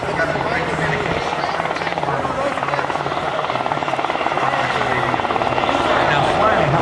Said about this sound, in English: Now, flying a helicopter is one of the most difficult things to do.